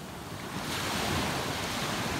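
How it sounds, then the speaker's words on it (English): Ocean waves wash against a rocky shore on Cape Breton Island, a steady broadband surf roar that swells slightly and holds with wind noise, no voices. "From the shores of Cape Breton Island, I'll leave you now with the sounds of the ocean."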